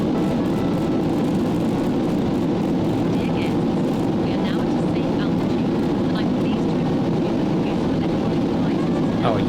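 A fighter jet's engine roars at full afterburner during a max climb in a flight simulator game, a dense, steady, loud rumble that holds for the whole stretch with no let-up.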